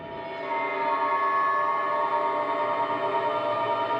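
A steady, loud rumble of the Astral Express train in Honkai: Star Rail, with a sustained horn-like tonal drone, continuous throughout with no talking.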